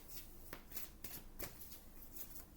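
A deck of cards shuffled by hand for a card reading gives quick, close riffling bursts repeating every half second or so, crisp and alone in a quiet room.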